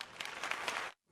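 A short burst of steady crowd applause, dense and even, that cuts off abruptly near the end.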